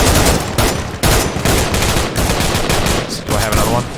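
Gunfire in a tank video game aimed at a BTR armoured vehicle: loud, rapid bursts of shots crack in quick succession across the whole moment, dense and close, with short gaps between volleys.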